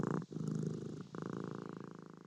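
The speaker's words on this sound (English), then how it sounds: "Power Dog also thought that he heard a very faint purr coming from Roger's golden body." A cat purrs close by in a soft, rhythmic rumble of pulsing breaths, briefly breaking twice before settling into a steady purr, quiet and alone with no talking.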